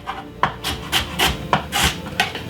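A knife finely chops half a white onion in quick, close cuts, about eight crisp strikes in under three seconds with slightly uneven spacing, and no talking.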